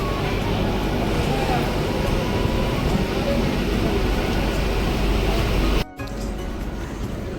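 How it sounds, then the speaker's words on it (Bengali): Steady loud rumbling and rushing noise of a moving train, continuous throughout with a brief dropout near the end. "বন্ধুরা ট্রেনটা ছেড়ে দিয়েছে"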